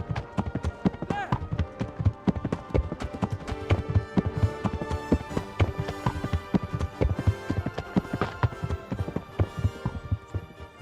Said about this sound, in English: that horse galloping noise is like super loud.